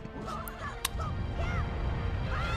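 Argorok, the giant bird enemy of the Forsaken Fortress in The Legend of Zelda: The Wind Waker, lets out several rising, squawking cries over a steady game soundscape, with a sharp hit midway.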